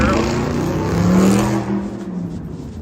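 A loud rear-wheel-drive car accelerates through a stop sign on an icy road, its engine roaring steadily close by, then fading slightly as it pulls away.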